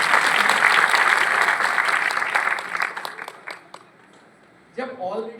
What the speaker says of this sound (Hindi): शानदार तालियां होनी चाहिए।